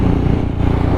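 A KTM Duke 690 single-cylinder motorcycle with a full Competition Works exhaust gives a loud, close, deep throbbing engine rumble that holds steady for a moment.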